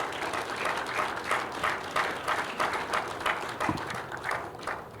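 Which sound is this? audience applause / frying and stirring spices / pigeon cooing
audience applause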